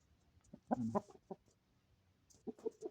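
Quiet, close clucking from chickens in short bursts, a few soft clucks then a quick run of them, with no talking.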